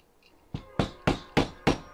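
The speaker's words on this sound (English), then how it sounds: "Grab up my hammer." A hammer strikes a hole punch through scrap fabric in four loud, close, evenly spaced blows, each a sharp crack with a quick decay, after a brief quiet lead-in.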